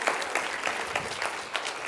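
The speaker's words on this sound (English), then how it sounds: "Can we please give these fine gentlemen a round of applause?" Audience applause at a physics lecture on colour, a steady patter of many hands clapping that fills the room evenly for a couple of seconds with no talk over it.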